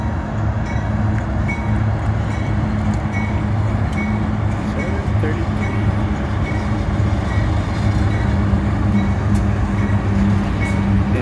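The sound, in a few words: Union Pacific train rumbling over the Brazos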